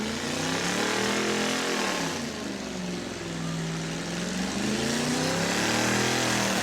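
A car's engine roars continuously at high revs during a tire-smoking burnout at a burnout contest in New Smyrna, loud and close, with the pitch dipping briefly and then climbing again.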